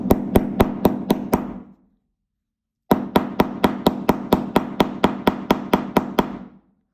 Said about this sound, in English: So I'm basically just gonna place this in here over my markings and go to town with a hammer.